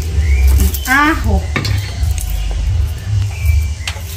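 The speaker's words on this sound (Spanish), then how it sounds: "lo pongo a sofreír para que el pollo vaya sacando su juguito" Tomato, onion and garlic sauté with chicken pieces in a pot for chicken soup, a loud steady sizzle with close scraping stirs and a short voice early on.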